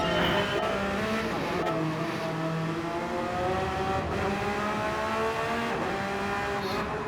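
A Jaguar race car engine at Fuji in a racing video game, howling steadily at high revs with rising and falling pitch through gear changes, several cars audible close together.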